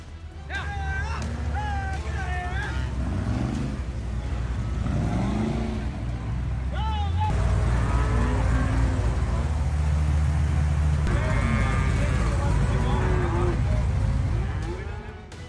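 Cattle mooing amid a flood rescue in Texas, with low engine or boat motor rumble throughout and several drawn-out bellows over the continuous noise.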